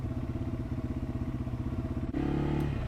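A Yamaha TW200 motorcycle on a winter morning commute gives a close, steady pulsing engine thump, then its tone rises and smooths as it revs toward the end.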